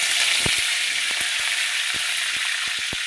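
Curry leaves and mustard seeds sizzle in hot oil for tempering, giving a steady bright hiss punctuated by scattered sharp pops and crackles from the seeds.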